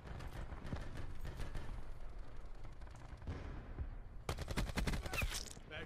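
Rapid gunfire from Call of Duty: Black Ops 4 multiplayer, with dense bursts of shots running throughout and a sharper, louder volley of close cracks near the end.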